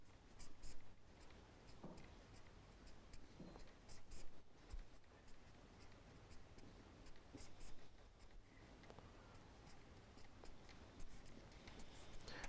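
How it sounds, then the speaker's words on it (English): An equation written by hand with a pen or chalk, giving soft, faint scratching strokes and small ticks in uneven bursts against a quiet room hum. "I will quickly write down the expression again for your understanding."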